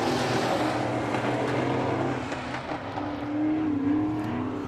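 Race cars roaring around a dirt track at Marshalltown Speedway as a race finishes, a steady dense engine drone with rising and falling passes, loud and continuous throughout.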